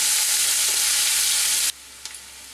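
Finely chopped onion sizzles steadily in a pan for shahi paneer, then the loud frying drops off abruptly to a quiet hiss with a couple of light utensil taps.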